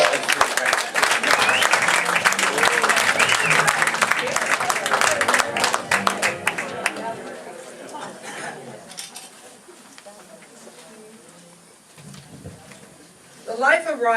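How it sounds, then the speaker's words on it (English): Audience applause at a live radio show performance, loud and full for about seven seconds, then fading to a quieter room with faint scattered sounds and a brief rise at the close. "Let's have a round of applause for Frank."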